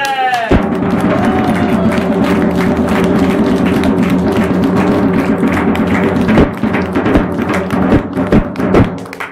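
An audience at an outdoor folk performance claps in a dense, steady wash of applause that runs the whole time, with occasional louder thumps and taps and some crowd voices mixed in.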